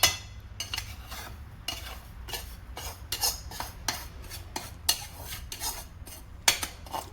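Gooseberry pickle being mixed with spices and oil in a pot, with a spoon repeatedly scraping and clinking against the metal in uneven strokes, close and without talking.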